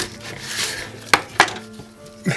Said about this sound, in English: So with leek, always the same, chopped in half of it this way